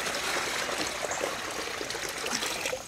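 Water pours steadily from a bucket into a SilverFire Hike and Stow bag, a continuous close splashing trickle and gush that fills the whole stretch before easing off at the end.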